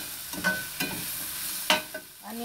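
Onions and potatoes fry in a very hot pan for an egg and potato curry, with a steady sizzle under several sharp scrapes and clatters of the spoon stirring them.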